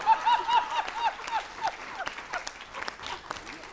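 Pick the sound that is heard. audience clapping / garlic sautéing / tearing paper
audience clapping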